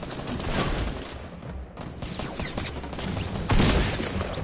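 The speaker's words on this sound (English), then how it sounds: "That's me shooting." Rapid bursts of gunfire from the video game Fortnite, dense and continuous automatic shooting with sharp cracks, loud and close throughout.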